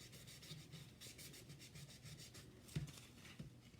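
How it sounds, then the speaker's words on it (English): A dry rag rubbed over painted furniture that is being distressed gives soft, quiet, repeated scrubbing strokes in a steady rhythm, with a brief knock partway through. "And I'm rubbing this with a dry rag."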